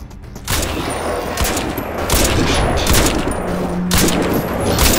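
Dense, loud gunfire fills a firefight in Crysis 2 Remastered, continuous rapid shots with sharp cracks layered over a roaring background, no talk.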